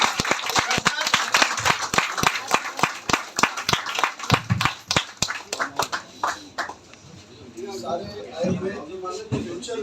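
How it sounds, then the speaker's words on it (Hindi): An audience at a Ghatkopar leadership speech event claps loudly and steadily for several seconds, then the applause thins out and voices take over. "जोरदार तालियां बजा दीजिए"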